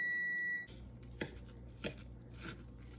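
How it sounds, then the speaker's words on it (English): A steady high electronic beep sounds for a moment and stops, followed by a few sharp knocks and clatters of kitchenware. "Things are beeping."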